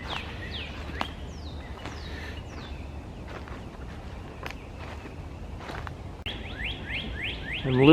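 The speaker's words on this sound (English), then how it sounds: "I'm listening to the cardinals." Clear, repeated whistled cardinal song with descending slurred notes rings out near and loud at Iroquois Park on a spring morning, alongside scattered chirps, light rustling and occasional footsteps.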